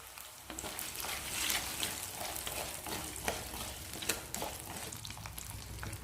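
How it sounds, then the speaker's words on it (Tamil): Whole peeled shallots sautéing in oil in a pan for a peppery Tamil kuzhambu, giving a steady, close, crackling sizzle with occasional stirring scrapes and no talk. "வெங்காயம் நல்லா வதங்கிருச்சு."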